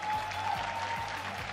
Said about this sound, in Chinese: 掌声送给他好吗？